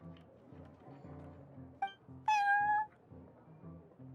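A cat in Genshin Impact, at the Cat's Tail, gives two clear meows, a short one followed by a longer, louder one, over steady game background music.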